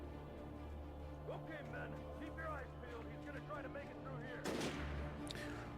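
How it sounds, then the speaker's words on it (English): Bursts of gunfire from enemies shooting at the player in the video game Alan Wake 2, rapid cracks over a steady helicopter-like drone, with a louder blast near the end; fairly faint overall. "They're like actually shooting at me."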